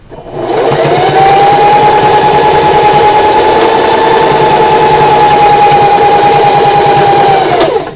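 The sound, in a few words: sewing machine back stitching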